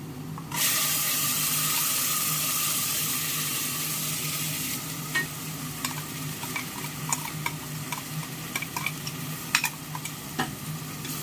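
Masala sautéing in a pan for pudina coconut rice sizzles loudly and steadily, with scattered clicks and scrapes of stirring, and no talking.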